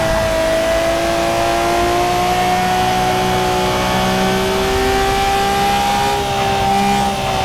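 A race car in the Forza Motorsport video game: a loud, sustained engine whine at high revs, the pitch drifting gently, with a rough road-and-tyre roar underneath and no voices.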